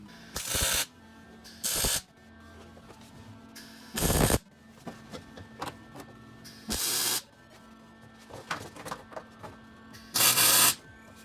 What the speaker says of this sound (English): I'm going to go ahead and tack it in place where it needs to be